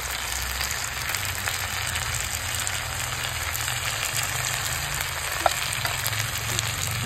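Red lentils with salt and turmeric frying in a pan, a continuous loud sizzle with light stirring scrapes throughout and one sharp clink near the end, no voices.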